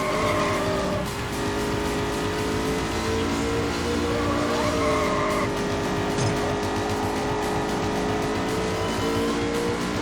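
Engine of a Corvette racing in Need for Speed: High Stakes, a steady loud drone with shifting pitch and intermittent tire squeal as it skids, continuous throughout with no talk.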